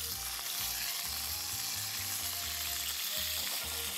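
Cod fries in a pan on the stove, giving a steady, close sizzle and crackle with soft stirring and scraping underneath, and no talking.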